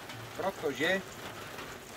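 Steady rain falls around beehives being weighed at the end of the rapeseed bloom, a soft broadband patter running continuously under someone talking.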